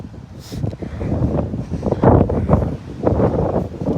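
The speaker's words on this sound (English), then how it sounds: "So this wind can die down, because I want y'all to hear this part." Strong outdoor wind buffets the microphone in a continuous loud roar with gusts that swell and fade, and no voice is heard.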